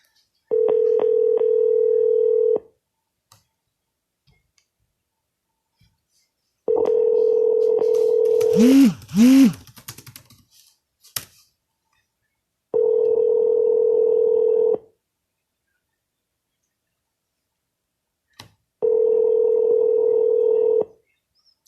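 A phone line plays a steady single-pitch dial tone in four separate bursts, each about two seconds long, during outbound real estate cold calls for expired and FSBO listings in San Diego, with a brief clatter of dialing and handling noise between the second and third bursts.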